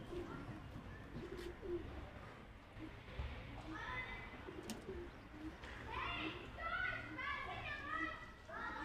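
Pigeons coo softly from a rooftop in the morning, faint and somewhat distant, mixed with other birds and the sounds of children playing nearby.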